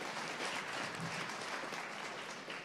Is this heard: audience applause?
yes